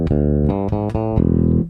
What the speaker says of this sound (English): Bridge pickup.